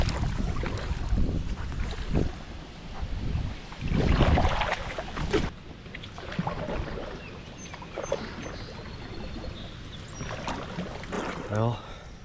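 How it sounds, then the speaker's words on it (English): Gusty wind rushes through the treetops above a river during a solo kayak trip on a scorching day. It comes as a broad, shifting roar that swells and fades, with louder bursts near the start. "Definitely tell the wind is whipping up at the top of those trees."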